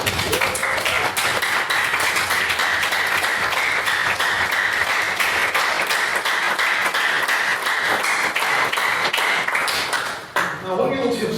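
Sustained applause from a debate-society audience fills the room, dense and loud, rolling on steadily for about ten seconds before cutting off abruptly near the end.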